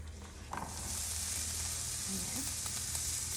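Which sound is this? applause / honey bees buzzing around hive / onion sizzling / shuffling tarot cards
onion sizzling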